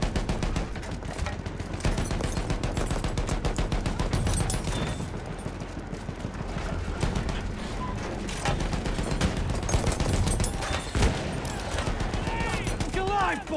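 Enemy machine gun in the Battlefield 1 shooter game, rapid sustained bursts of gunfire mixed with other shots and battle noise, loud and continuous throughout with game sounds layered around it.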